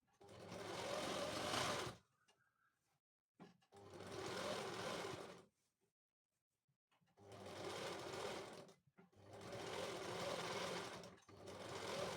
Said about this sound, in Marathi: आता आपण डबल टिप टाकून घेणार आहोत